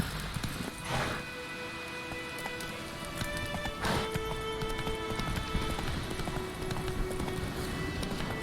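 Horse hooves beat in a quick, rhythmic gallop in The Witcher 3, clip-clopping steadily at moderate volume over a busy game soundscape, with no clear speech.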